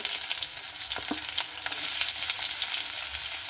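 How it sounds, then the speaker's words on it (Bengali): Sliced onions frying in a small amount of oil in a wok, a dense steady sizzle with occasional stirring clinks, close and fairly loud, swelling brighter partway through. "পেঁয়াজটাকে আমি হালকা করে ভেজে দিচ্ছি।"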